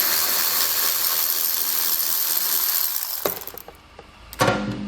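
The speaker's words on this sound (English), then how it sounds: "And finally, we can remove that last fastener. It's a 10 millimeter right here." A ratchet loosens a 10 millimeter fastener on a 2020 Chevrolet Equinox in rapid clicking pawl strokes, close and steady for about three seconds, then a pause and a brief metallic clatter.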